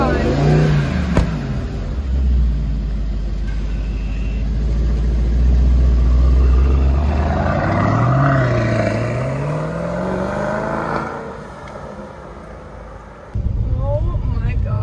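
A 2018 Mercedes-AMG E 63 S wagon pulls away and accelerates, its engine note rising and falling loudly through gear changes before easing off, with a sharp burst at the end.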